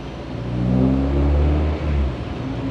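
A VW Polo hot hatch race car, a Class C 750 Motor Club build with a Haltech Elite ECU, revs loudly and close on a dyno, its engine note swelling, dipping briefly, then climbing again.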